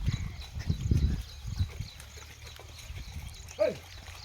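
A herd of goats walks along a farm path, their hooves clopping irregularly nearby, with one short bleat-like call near the end and faint outdoor background.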